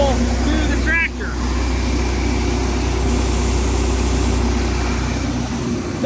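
Steady low engine drone of a tractor on a farm, running continuously with a brief tonal squeal early on, a constant rumbling idle from start to finish.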